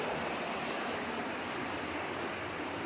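Water flows steadily out of a cave spring in Decorah, Iowa, a close, continuous rushing hiss with no breaks and no voices.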